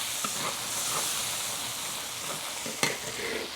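Chili, doubanjiang bean paste and hotpot base sizzle steadily in hot oil, with a spatula stirring through them. A soft, continuous hiss is broken by a few scraping clinks, one of them sharper near the end.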